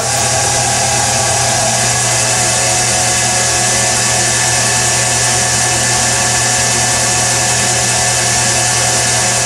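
A doubly fed generator spinning at around 2045 RPM in a classroom demonstration, a loud steady mechanical whine and hum holding constant throughout.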